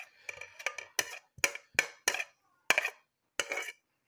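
Boiled chicken is mixed with onion, coriander and green chilies, heard as a series of sharp, close clacks and scrapes of a utensil against a bowl in an irregular rhythm with quiet gaps between.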